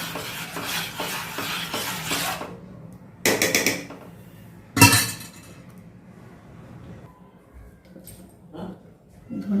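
Odisha dalma is stirred in a pot off the heat, with bursts of spoon scraping and clinking against the vessel separated by quieter gaps.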